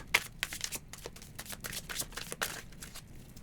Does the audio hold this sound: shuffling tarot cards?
yes